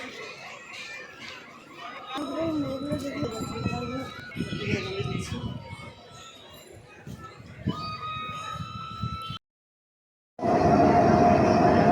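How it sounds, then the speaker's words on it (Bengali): At a railway station, a train rumbles and squeals along, with metallic screeches and rolling noise under people's voices. A brief silence follows, then a loud, dense burst of train noise. "এই যে আমরা এখন স্টেশনে বসে আছি"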